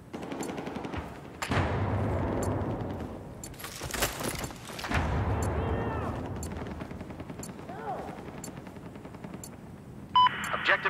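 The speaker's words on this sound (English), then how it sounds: "There appears to be an enemy machine gunner located to your west." Rapid machine gun bursts in the Battlefield 4 Operation Locker mission, sharp repeated cracks with a heavy loud volley in the middle, mixed with game effects and a radio voice speaking.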